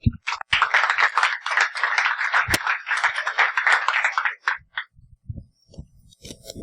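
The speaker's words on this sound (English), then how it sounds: "let's have another round of applause" An audience at the BSidesSF 2016 security conference gives a round of applause: dense, loud clapping for about four seconds that then stops abruptly, leaving scattered faint knocks and rustles.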